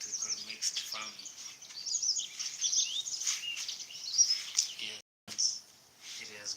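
Birds chirp and tweet around a mixed farm with animals and crops, a run of quick high calls close by that overlap and keep going, with a short silent break near the end.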